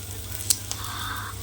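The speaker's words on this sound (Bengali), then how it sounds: "আর সাদা জিরে দিয়েছি, কাঁচা লঙ্কা দিয়ে ভাজা করছি" Black cumin, white cumin and green chilies fry in oil in a village kitchen, a steady close sizzle with a couple of small pops and a faint stir near the end.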